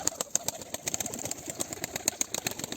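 Pigeons flapping their wings, a rapid series of sharp, faint fluttering claps, with a high steady whine and a soft idling engine behind them.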